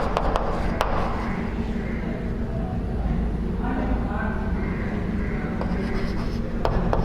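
Marker or chalk writing on a board during a Boolean algebra computer science class, a scratchy stroking texture running under a teacher's continuous speech, with a few sharp taps.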